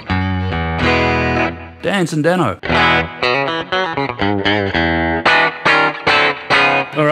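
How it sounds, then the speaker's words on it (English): A Danelectro Triple Divine electric guitar with lipstick pickups, picked with a plastic pick, rings out in clean tones: a sustained chord, then a run of quick separate plucked notes, loud and close. A brief spoken phrase comes in near the start. "So there are the lovely clean tones, which is what these lipstick pickups are famous for"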